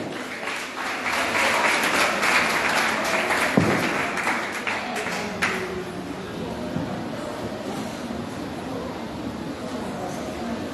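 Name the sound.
audience applause welcoming a guest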